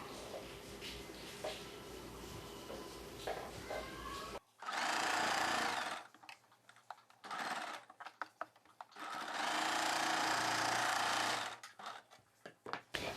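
A sewing machine stitches along the folded edge of a cross-cut blouse, with two long loud motor runs near and close, separated by short start-stop bursts and quiet handling noises.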